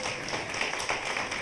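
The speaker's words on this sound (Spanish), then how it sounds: "Démosle un aplauso al Señor" A congregation applauds during a church service, a steady wash of dense crowd clapping with no clear breaks over a short stretch.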